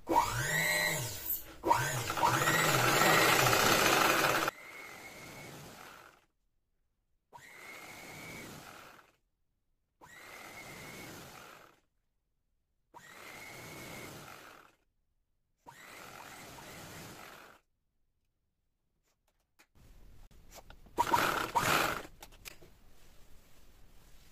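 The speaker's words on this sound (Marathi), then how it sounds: "जी उलटी बाजू असते ना, त्याच्यावरती इथे एक आपल्याला स्टिच करायचं आहे." Domestic sewing machine stitching fabric for a bow scrunchie, running in several short bursts of steady whirring separated by pauses, near and alone.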